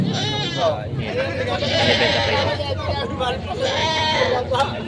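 Goats bleat several times in wavering calls over a busy background of people talking nearby at a livestock market in Padre Garcia, Batangas.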